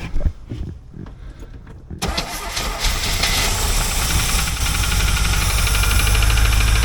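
A C4 Corvette's engine with an Edelbrock carburetor cranks with a few uneven thumps, then catches and roars to life, settling into a loud, steady, slightly rough idle close by.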